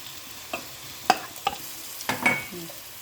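Chicken biryani base sautéing in a pan with pounded ginger-garlic, a steady low sizzle broken by a few sharp scrapes and clinks of a spoon stirring, close and with no talk.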